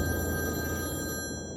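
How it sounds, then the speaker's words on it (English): A telephone rings after hours at a vet clinic during a destructive storm near Karratha, one continuous electronic bell tone that is steady and moderately loud, then cuts off near the end. "And after hours phone rings."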